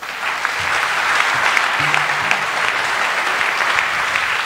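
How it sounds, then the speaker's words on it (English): A church congregation claps together during a worship service, a steady, continuous wash of many hands applauding with a few voices faintly underneath. "Let's clap for Jesus."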